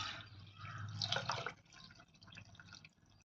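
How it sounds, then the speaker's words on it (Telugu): Water poured from a glass into a pot for coconut rice, a soft, steady pour lasting over a second that tapers into a faint trickle, heard quietly and close with no talk. "ఇంకో 2 గ్లాసులు నీళ్లు పోస్తాను"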